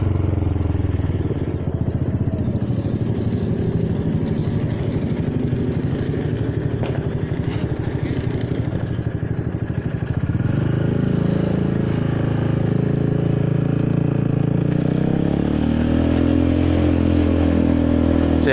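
A Honda Forza 300 scooter engine runs steadily and loudly close by, its revs climbing and holding around 3,000 rpm, with a rougher clattering drone early on that settles into a smoother, higher tone.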